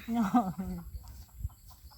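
Chickens cluck and call near a brick kiln in Laos, a short burst of close harmonic clucks at the start that gives way to quieter low thumps and faint background noise.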